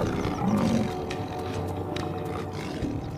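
A deep, rumbling lion roar, loud and close, swelling then trailing into low growling.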